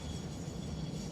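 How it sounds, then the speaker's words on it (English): A train rumbling steadily in a video game, a continuous low, heavy drone without breaks. "let's hop off the train so it doesn't take us away again"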